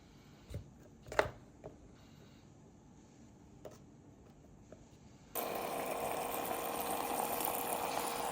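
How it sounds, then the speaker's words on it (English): Water runs into a drink as a steady, loud rush starting suddenly after several seconds of faint clinks and handling noises, with no talk. "I just add water"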